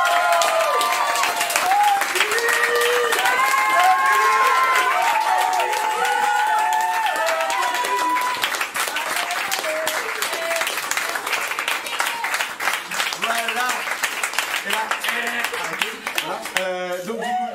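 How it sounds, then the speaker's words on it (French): Festival closing audience breaking into loud applause and cheering for a team member, dense clapping throughout with whistles and excited voices mixed in, easing slightly toward the end. "s'il vous plaît, applaudissez"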